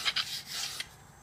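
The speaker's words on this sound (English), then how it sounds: "But so that's the idea with sanding." Sandpaper rubbing a wooden rudder spar in a few quick, short scraping strokes, close and fairly soft, with no talking.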